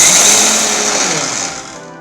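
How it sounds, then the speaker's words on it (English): A kitchen mixer grinder powders heated roasted Bengal gram with a loud, steady high-pitched whir that slowly winds down as the motor is switched off. "So here we are powdering this heated roasted Bengal gram."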